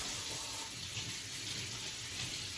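Tap water runs steadily at a sink while a green pepper is rinsed under it, a continuous close hiss and splash with no pauses and no talking.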